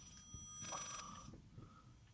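An old house telephone rings inside the horror video game Layers of Fear, a single bright electronic ring burst at moderate distance, with faint noises from the room around it.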